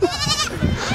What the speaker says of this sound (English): It's really a goat